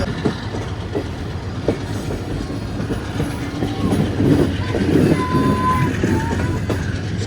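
The Allama Iqbal Express, riding with a new AC coach near Lahore, rolls along steadily with loud rhythmic wheel clatter and rumble heard from inside the coach, a faint squeal rising partway through.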